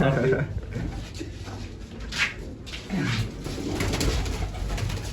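Pigeons coo near a rooftop net trap, soft low repeated coos under a busy outdoor background, with voices nearby.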